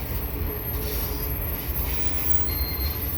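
CN eastbound freight train of tank cars and mixed freight rolls past steadily at the Dorval ramps, a continuous rumbling roar with high metallic wheel squeal streaking over it.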